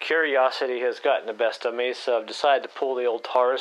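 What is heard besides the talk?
No everyday noises stand out.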